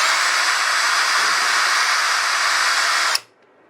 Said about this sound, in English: I'm just going to drill down into here